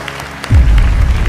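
An audience at a Lunar New Year comedy stage show breaks into sudden loud applause that continues steadily with crowd noise.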